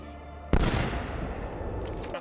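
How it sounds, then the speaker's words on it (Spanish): A single sharp blast from a hidden gun in Assassin's Creed 2, an abrupt loud crack that decays into a noisy rumble, followed by faint game sounds. "Añadieron también un cañón oculto, que tiene bastante cooldown para no hacerlo excesivamente chetado."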